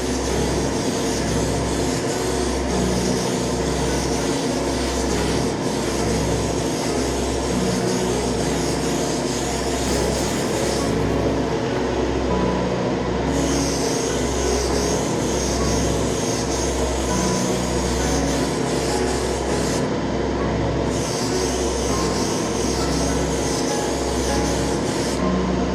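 2K automotive clear coat is sprayed lightly onto a model car body. The spray hisses loud and steady and close, with a low pulsing hum underneath and no pauses.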